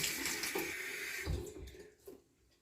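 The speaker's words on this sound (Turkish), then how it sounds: "Illık su ile bunu yıkıyorsunuz" Lukewarm tap water runs and splashes as skin is rinsed clean during an evening skincare routine, a steady close wash that fades out toward the end with no one speaking.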